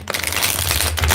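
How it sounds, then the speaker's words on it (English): A deck of cards being shuffled during a card reading session, a brief riffling, crinkling burst lasting about a second, steady and fairly close, with a low hum underneath. "I'm going to shuffle this anyway"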